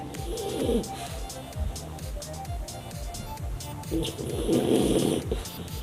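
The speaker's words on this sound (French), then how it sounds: "Il dort, il ronfle. Écoutez, écoutez le son de son nez." A dog snores in slow, rhythmic breaths, with rumbling nasal snorts close by, the louder snores rising and falling over a few seconds.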